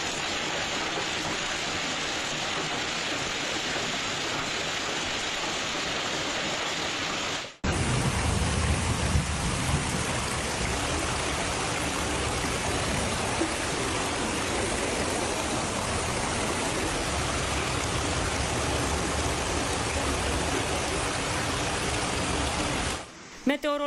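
A heavy ten-minute hailstorm with rain in a village in Suceava County, Romania, a dense, loud, unbroken roar of pelting ice and water that cuts abruptly between two takes.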